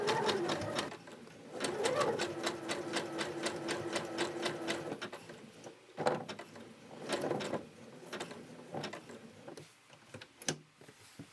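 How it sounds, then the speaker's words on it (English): A sewing machine stitching a fabric LARP bandage, its rapid mechanical clatter running in short bursts with pauses between, fairly close and alone. "Lower the foot and slowly make a few stitches, helping the fabric with the pin."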